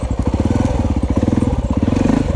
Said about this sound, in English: engine had to warm up, and this bike now really wants to go